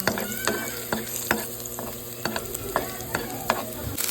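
Garlic browning in a pan before chicken goes in for pininyahang manok, a bright continuous sizzle punctuated by regular sharp scrapes and taps of a spatula against the pan, close and fairly loud, with no talking.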